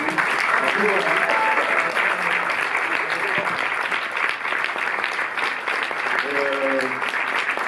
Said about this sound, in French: Alors applaudissez très fort